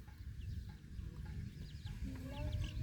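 Chickens cluck and chirp in short, scattered calls at a rural homestead, fairly near, over a low rumbling background.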